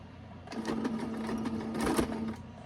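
A sewing machine stitches the binding of an extra-large self-binding potholder, a close, steady mechanical whir running for about two seconds before stopping.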